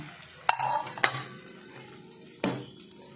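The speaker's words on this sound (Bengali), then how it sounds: "এবারে আবার আমি কড়াইতে ওই পাশটার জন্য দিয়ে দিলাম ভাজা ভাজা হওয়ার জন্য" A muri omelette frying in a kadai gives a faint, low sizzle broken by three sharp clinks of a utensil against the pan, with no voices.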